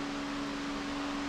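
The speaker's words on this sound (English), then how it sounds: "Pardon the fan in the background, just trying to keep the smoke out." An electric fan runs steadily in a workshop to clear smoke while a G10 build plate is being cut, giving a constant broadband whoosh with a low steady hum, moderately loud and unbroken throughout.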